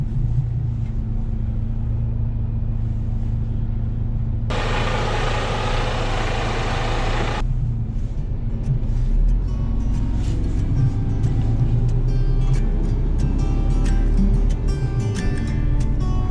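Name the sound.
truck accelerating up a snowy hill with both axles engaged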